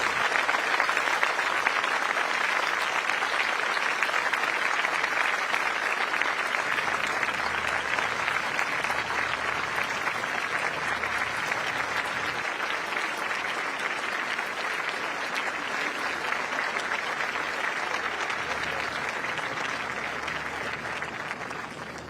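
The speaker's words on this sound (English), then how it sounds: "arriving to a round of applause from the audience" Steady, dense applause from a seated audience on a lawn at a prime minister's swearing-in ceremony, sustained and even for over twenty seconds and fading slightly toward the end.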